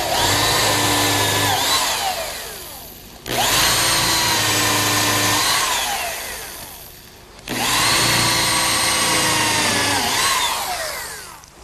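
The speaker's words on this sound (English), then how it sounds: "Now a pilot hole and countersink." Power drill boring a pilot hole and countersink in wood for a picnic table seat, three long whining runs with pauses between, each spinning up loud and close then slowing as the bit cuts.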